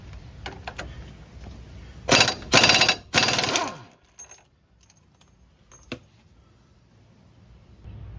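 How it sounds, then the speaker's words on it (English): A 1/2 inch impact wrench with a 32 mm socket removes the axle nut on a 2005 Dodge Caravan, firing three loud, close rattling bursts in quick succession, followed by quieter workshop clatter. "we'll go ahead and use our 1/2 inch impact to pull that off of there"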